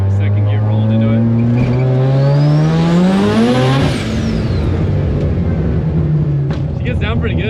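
Drag racing car accelerating hard in second gear, a loud, close engine roar climbing steadily in pitch for several seconds before easing off and settling into a sustained rumble.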